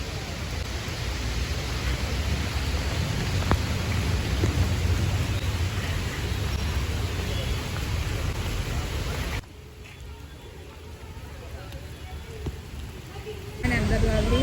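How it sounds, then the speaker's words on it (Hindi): Heavy, steady rain hisses loudly throughout, briefly dropping quieter for a few seconds before surging back near the end. "बारिश बारिश बारिश।"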